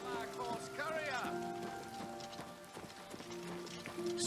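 Rhythmic hoof clip-clop of a galloping horse in the video game Oblivion Remastered, with a brief whinny and a voice speaking over the hoofbeats.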